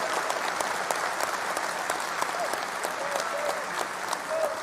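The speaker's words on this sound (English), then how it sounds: "Yes, cheer for them." Steady applause and cheering from a large crowd at a political speech, dense clapping filling the whole stretch with scattered whoops rising above it.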